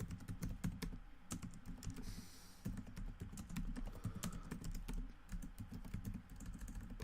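Fast, irregular typing on a computer keyboard, dense clusters of close key clicks over a steady low background rumble, with no talking.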